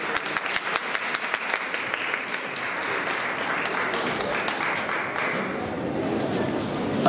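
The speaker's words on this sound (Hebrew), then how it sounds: "ומגיע לא מחיאות כפיים." Sustained applause from an audience at a Jerusalem Day gathering in a yeshiva hall, a dense steady wash of many hands clapping that carries on for several seconds, with some faint voices mixed in.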